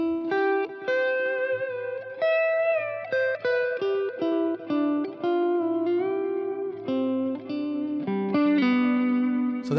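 An electric guitar runs through a Keeley HALO Core echo pedal, playing a clean, melodic line of sustained notes whose repeats blur and feather into one another like reverb, alone and clear.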